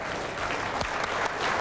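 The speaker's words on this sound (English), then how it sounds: "it drew applause from William Thomas at the other end" Spectators clap for a good lawn bowls shot during an Australia versus Wales match: a steady burst of applause from a small crowd that holds at an even level for the whole moment, with no voices over it.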